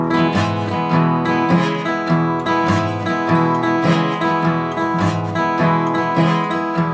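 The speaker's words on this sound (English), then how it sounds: "you add a swing rhythm and a swing bass line on it, and it sounds something like this" Slow two-beat country shuffle, steady instrumental band with a walking swing bass line and loping rhythm, full and continuous with no voices.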